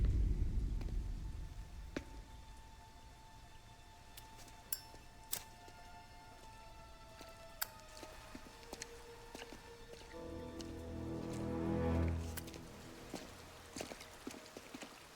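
Rain falls in a cutscene of Mafia Definitive Edition, a soft, steady patter with scattered sharper drops and clicks, faint throughout, swelling briefly near the end.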